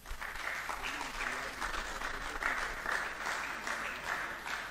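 Audience applauding the teams at a quiz competition, a sustained round of clapping from a crowd with faint voices mixed in underneath.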